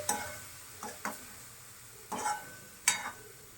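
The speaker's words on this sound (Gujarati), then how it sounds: "મેથી નાખ્યા બાદ આપણે એને મિક્સ કરી દઈએ" Fenugreek leaves being stirred into frying papad curry in a pan: a few brief, soft scraping strokes at uneven intervals over a faint background sizzle.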